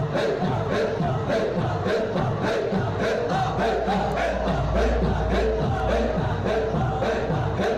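A crowd at a dhikr gathering claps hands in a steady, fast rhythm, loud and continuous, with massed voices chanting and shouting over it.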